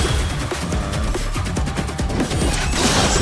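Rapid shots from Senna's gun in the 2XKO fighting game crack out in a quick burst of repeated blasts, loud and close over a dense wash of game effects.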